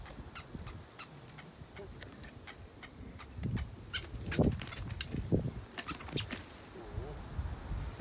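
A game bird flaps its wings and flutters in brief broadband bursts close to a training bird dog, with fowl-like calls and a person's voice now and then in the background.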